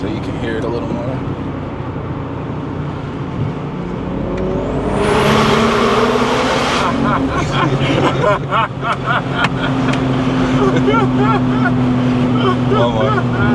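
A 650whp BMW 440i drives with engine drone and rising revs, loud and close from inside the cabin, with a whooshing surge midway, then steady rumbling cruise as people talk over it.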